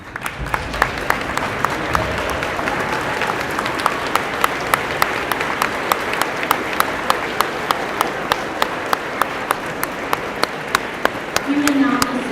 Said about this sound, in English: Please stand and give a round of applause for our veterans.